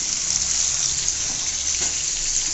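Tengra river fish frying in hot oil, giving a steady, dense hiss that runs without a break from start to end, close and fairly loud, with no voices.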